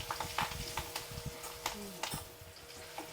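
Dal made with vakkaya (karonda) being stirred in a pan after asafoetida goes in, soft scraping strokes of a spoon in a quiet irregular rhythm with a light sizzle underneath, close and alone.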